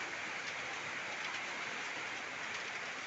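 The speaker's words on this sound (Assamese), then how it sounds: "এনেকুৱা খাতৰা বৰষুণ দিছে" Heavy rain pours down in a dense, unbroken hiss, steady and fairly close, with no voices over it.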